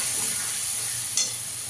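Spice paste of ginger, green chilli, cumin, coriander and Kashmiri chilli powder frying with potatoes in a pan, a short, steady close hiss with one brief spitting flare.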